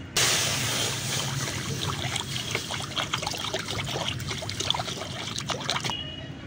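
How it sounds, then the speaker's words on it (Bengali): Lentils (dal) being washed in water for Bengali dal goppa, with steady nearby sloshing and trickling of water running for several seconds, alone. "ডালটা ভালো করে পরিষ্কার করে ধুয়ে নিয়েছি"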